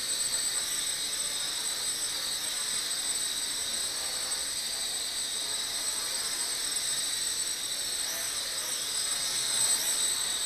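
A Huacai HC601 quadcopter drone flies with a constant high-pitched whine from its rotors, steady and unbroken, with a slight swell near the end.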